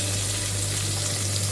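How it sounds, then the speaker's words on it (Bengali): Four cloves dropped into hot, slightly darkened oil for tempering, giving a loud, dense, continuous sizzle close by with no talking. "ওই তেলে আমি ফোড়ন দিয়ে দিলাম, 4টে লবঙ্গ ফোড়ন দিলাম"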